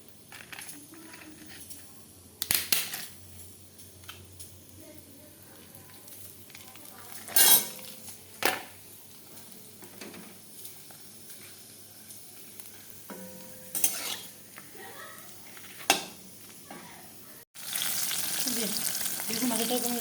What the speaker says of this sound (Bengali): বেগুন ভাজতেছি, যেহেতু পাঁপড় ভাজতে অনেকটা তেল হয়ে গেলে, এত তেল লাগে না।